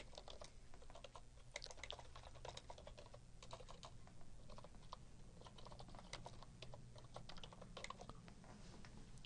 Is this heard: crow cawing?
no